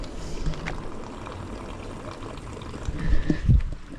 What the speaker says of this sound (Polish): Woda płynie, ale jestem ciekaw, y, czy to jest pitna woda.